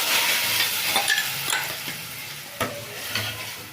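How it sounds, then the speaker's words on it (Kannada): Ground sambar paste goes into a hot tempering of mustard seeds, cumin, asafoetida and curry leaves, which sizzles steadily up close while a spoon scrapes and stirs through it in uneven strokes, with no talking. "ಈಗ ನಾನು ರುಬ್ಕೊಂಡಿರೋದು ಹಾಕ್ತಾಯಿದ್ದೀನಿ."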